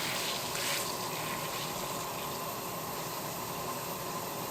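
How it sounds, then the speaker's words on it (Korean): Water bubbles and rumbles steadily in a wide pot at a rolling boil, a close, continuous churning hiss with no pauses. "널쩍한 냄비에 물을 끓여주시고 끓는 물 위로 레몬을 넣어 여기저기 굴려주세요"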